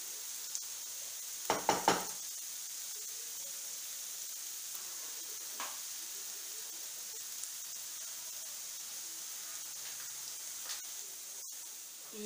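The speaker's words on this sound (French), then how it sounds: "je vais faire un petit peu rissoler mes oignons" Onions browning in a pan give a quiet, steady hiss that runs throughout, with a couple of brief utensil clinks near the start.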